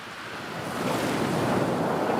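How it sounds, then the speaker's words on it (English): Ocean waves recorded from rivers flowing into the Pacific, a continuous broad wash of surf that swells louder after the first second and holds steady, with no voices. "You can hear the sound of ocean."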